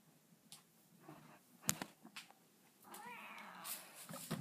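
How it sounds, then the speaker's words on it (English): A female cat meows softly indoors, a few quiet, faint calls with one longer, wavering meow near the end, over low room noise and small handling sounds. "This is my kitty."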